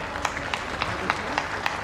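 A crowd applauds at the inauguration of the Z-Morh Tunnel at Sonamarg, Kashmir, welcoming Prime Minister Modi; dense clapping with a few sharper claps, fairly loud and steady, with some crowd noise mixed in.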